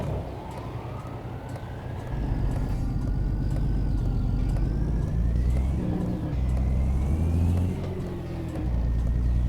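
Freightliner FLC truck in American Truck Simulator, its diesel engine droning low and steady with a deep rumble that swells after two seconds, as under engine braking, with rising and falling whine tones overhead and no talk.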